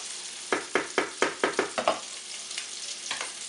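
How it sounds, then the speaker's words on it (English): Sausage browning in a pan, a close sizzle broken by a quick run of about seven rhythmic spoon scrapes or stirs, then quieter frying with a couple more strokes near the end. "over here, I am browning up some sausage"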